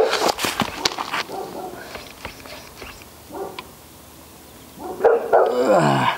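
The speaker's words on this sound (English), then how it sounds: "My dog's barking at someone." A dog barks in several sharp bursts at someone, loud and close at first, then quieter rustling and footsteps before another round of barks near the end.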